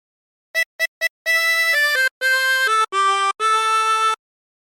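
A 24-hole tremolo harmonica plays a phrase: three quick short notes, then a run of longer reedy held notes stepping through the melody, bright and close with no voice.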